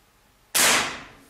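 A single sharp shot from an FX Wildcat MK2 PCP air rifle fired with pellets, a sudden loud crack that fades quickly after a quiet moment.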